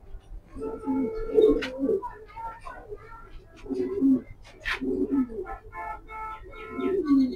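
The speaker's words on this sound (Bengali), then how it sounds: "এই হলো আমি ছাড়ছি কবুতরটা।" A pair of pigeons coos in repeated low throaty phrases, close and clear, while other birds chirp faintly in the background and a voice talks over them.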